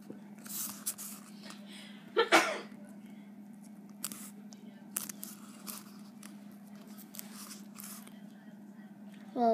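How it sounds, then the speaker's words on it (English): Duct tape being cut and handled while making a duct tape fruit tray: scattered close snips and crinkly tearing sounds over a steady low hum, with a short voiced burst. "Cut your duct tape 1 inch inside."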